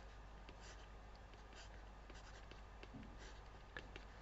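A pen scratches out a chemistry equation in steady soft strokes over a constant low electrical hum, faint and close, with no talk.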